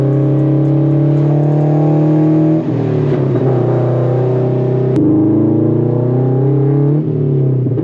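A Subaru BRZ / Toyota 86 driving, its engine note loud and close with steady droning harmonics that shift as gears change, plus a sharp crack near the midpoint like an exhaust pop.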